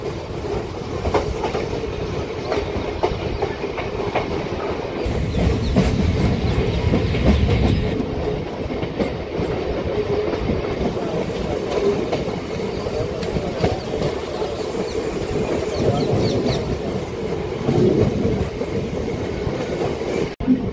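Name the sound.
MEMU local train running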